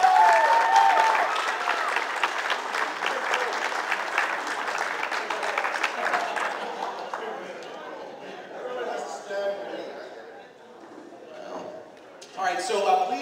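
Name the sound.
audience applause at Halloween reunion Q&A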